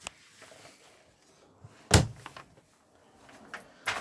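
A door inside a 2013 Sprite Alpine 2 caravan swings open with a sharp knock near the middle, followed by softer handling clatter and another knock at the end, in a quiet interior.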